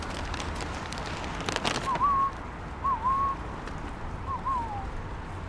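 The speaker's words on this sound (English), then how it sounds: "as soon as I whistle, they'll know how it is" A person gives three short rising whistles to call pigeons down, spaced about a second apart, fairly clear over steady outdoor background noise in a North Tyneside town.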